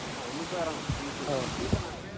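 Sea surf at Varkala beach on the Kerala coast makes a steady broadband wash with slight swells, partly blended with wind noise, while a voice talks over it.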